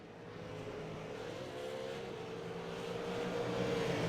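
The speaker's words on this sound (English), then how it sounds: "now Zettinger gets a good run on the front straight and has a look down the inside at turn 1" V8 Supercars in a racing simulator game at Interlagos, engines droning steadily and rising slightly in pitch as the cars run down the front straight, a continuous mid-level roar with no talk.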